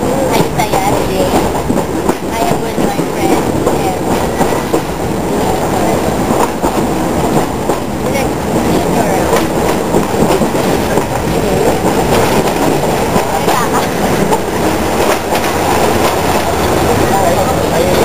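Passenger train riding the rails on a trip to Ayutthaya, with a steady loud rumble and clatter of wheels throughout, and people talking over it at times.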